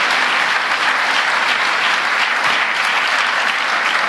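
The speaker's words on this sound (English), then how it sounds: "he deserves a round of applause for that." Audience at a Bloomberg forum applauding President Biden, dense and loud sustained clapping filling the whole stretch at an even level, no voices above it.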